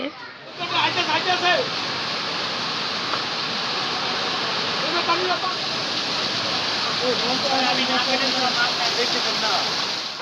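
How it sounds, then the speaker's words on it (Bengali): Heavy rain pours down at a market in a dense, steady hiss that stays loud and even for the whole stretch, with a voice talking faintly beneath it. "আমরা বাজারে আসার সাথে সাথে হচ্ছে অনেক জোরে বৃষ্টি নেমে গেছে"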